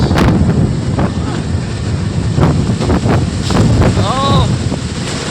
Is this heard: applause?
no